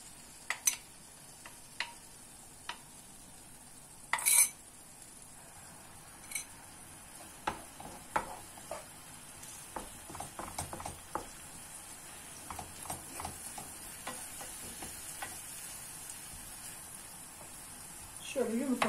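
Beaten eggs are poured over green beans in a frying pan. Faint sizzling carries scattered clicks and scrapes of stirring, and a quiet voice talks underneath.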